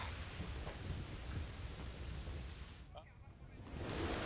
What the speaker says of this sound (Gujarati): અમદાવાદ શહેરમાં વરસાદ થઈ રહ્યો છે।